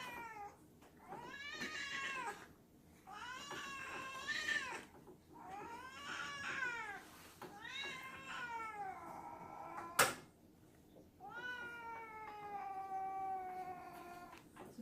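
Cat meowing repeatedly while held wrapped and restrained for pilling: a steady run of loud, drawn-out, insistent meows with a sharp bump partway through, no talking.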